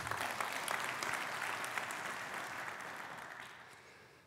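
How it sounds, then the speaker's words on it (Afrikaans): A church congregation gives a steady round of hand clapping that slowly fades out over a few seconds. "Kan ek vra dat ons vir ons aanlyn gehoor 'n lekker hande klap gee."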